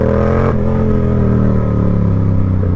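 Yamaha R7 motorcycle pulling from about 3,000 rpm under throttle, a loud, close, steady engine drone whose tone slides as it accelerates.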